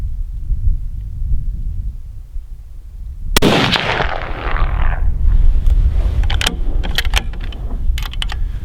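A single loud, sharp sniper rifle shot during target practice, its crack and long decaying echo standing out from steady wind noise, followed by faint clicks and rattles.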